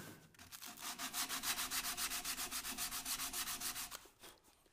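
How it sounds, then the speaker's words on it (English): Sandpaper wrapped around a file rubs back and forth on the inside of a scrap timber box, a fast, steady run of about twenty even strokes, close and alone. "I reckon the easiest way is to wrap a bit of sandpaper around a file."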